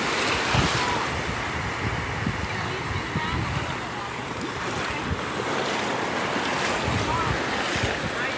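Ocean surf at Siesta Key Beach makes a steady broadband wash under heavy wind buffeting on the microphone, with a person talking over the roar.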